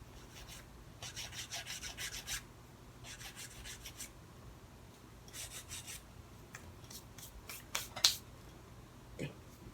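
A file lightly smoothing the rough edge of a press-on nail tip makes soft rasping strokes in short bursts with pauses between them, quiet and close, then a couple of faint taps near the end.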